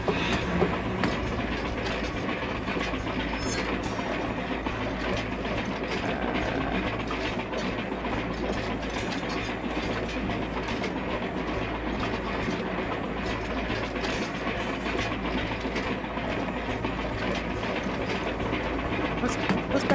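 A haunted train in the strategy video game Hard West 2 rolls along with a dense, continuous rumble and clickety-clack of wheels that holds steady and loud throughout.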